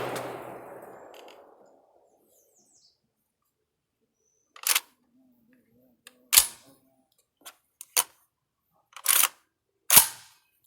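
An AK rifle fires single rounds outdoors on a hillside, sharp isolated cracks spaced a second or two apart at a distance, with faint handling clicks and near silence between shots.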